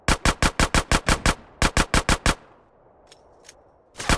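Gunfire in GTA San Andreas, two rapid bursts of loud, evenly spaced shots, a pause with faint echoing tail and a couple of distant pops, then another burst starting.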